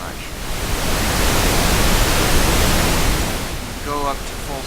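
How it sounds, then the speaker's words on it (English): A mono pink noise test signal plays as a loud, steady broadband hiss, easing slightly before a voice briefly appears near the end. "This is a mono noise source. And with pink noise, it shouldn't be hurting the tone"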